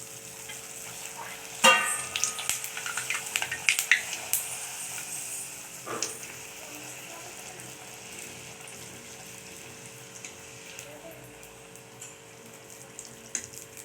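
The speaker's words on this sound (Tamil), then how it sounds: "இப்போ நம்ம பூரிஸ் எல்லாம் போட்டு பொரிச்சு எடுத்துடலாம்." Rava pooris deep fry in hot oil with a soft, continuous sizzle and bubbling, broken by a few louder splashes and clatters early on, close by and without speech.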